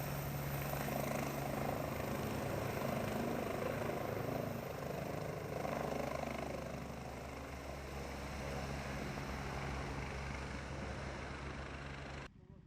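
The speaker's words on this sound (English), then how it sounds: "Soon the chopper took off" A loud, steady rotor drone with a low engine hum fills the air, holding strong before easing slightly and cutting off at the end.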